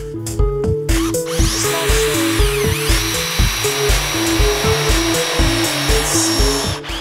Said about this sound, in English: drill a hole using your mark and stop about 1/4 inch from the bottom of the material